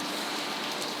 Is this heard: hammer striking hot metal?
no